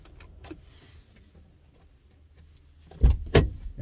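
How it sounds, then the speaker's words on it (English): A car door is shut after the vehicle is switched off, giving a loud, close double thud near the end after quiet cabin rustling. "Go ahead and close the door."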